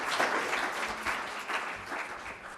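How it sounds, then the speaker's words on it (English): A public meeting audience applauds the presenters, a sustained round of many people clapping, moderately loud and continuous, with no speech over it. "let's give these gentlemen another hand of applause."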